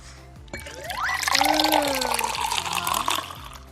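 Spiced Christmas sangria pours in a steady stream into a glass with a rising gurgle as it fills, lasting a few seconds at close range.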